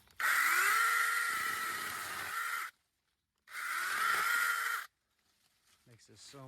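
A Sainlogic 6-inch battery powered mini chainsaw whines in two loud high-pitched bursts while trimming shrubs and laurel, its motor pitch dipping under load, with a short pause between and faint talk afterward.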